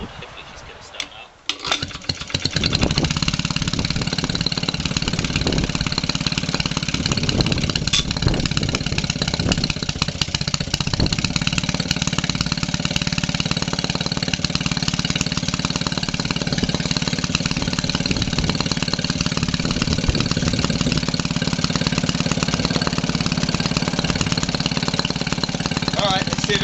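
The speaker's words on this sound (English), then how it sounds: "This Maytag is running a little bit slow, so I don't know if she's going to cope." A cold 1946 Maytag 72D engine, turning slowly, starts after a few rough knocks and then runs steadily while it drives a 1927 Maytag washing machine, a loud close putter that holds its pace.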